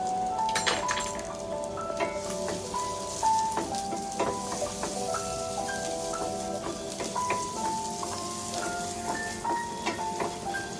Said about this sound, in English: Then we have to put in our onion.